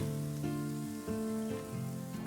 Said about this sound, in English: Saute the veggies for 2 to 3 minutes.